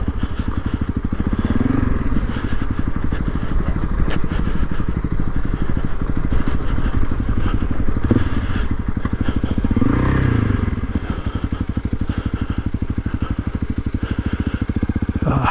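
A Honda CRF300L Rally motorcycle engine thrums loud and close throughout an off-road ride, with steady throttle and small surges, while gravel and loose ground clatter and scrape beneath the tyres.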